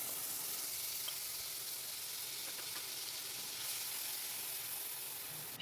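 Spice paste of cumin, coriander and chilli mixed with a little water sizzles steadily in a hot wok, a dense, even hiss running unbroken from start to finish.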